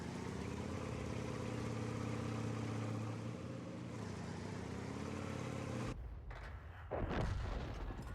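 A heavy cannon round slams into a Type 5 Heavy tank in a video game battle: a loud, sustained rumble of engines gives way to a sharp, booming impact blast near the end.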